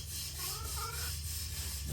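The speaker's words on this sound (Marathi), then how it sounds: "आपली आई बघा इथं किती मस्त भांडी वगैरे धुवायला लागली" Dishes hand-washed outdoors beside a tree make a steady, faint scrubbing and rubbing sound that continues without a break.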